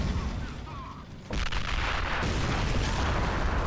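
Dense gunfire in an Army Men toy-soldier battle during the siege of Tanoi City, a steady roar of shots and booms that swells sharply partway through and stays loud to the end.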